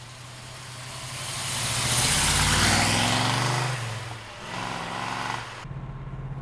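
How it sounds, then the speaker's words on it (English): A 1968 Chevrolet Camaro with a big block engine driving by, a deep rumble that swells as it approaches, peaks loudly and then fades as it pulls away. "let's take this big block Camaro for a ride"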